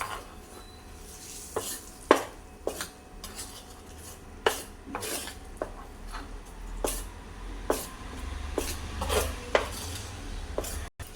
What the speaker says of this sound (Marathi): पिठामध्ये घालायचं आहे आपण उलात्यानं चांगलं मिक्स करायचं